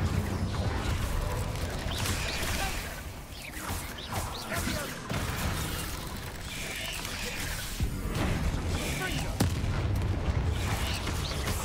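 Spell casts in the Hogwarts Legacy video game, including Incendio fire bursts, as a dense run of whooshes, crackles and crashing impacts over a steady game soundscape, with a voice speaking spell names throughout.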